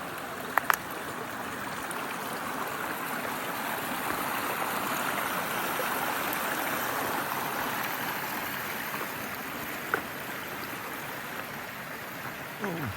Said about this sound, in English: So, pretty creek.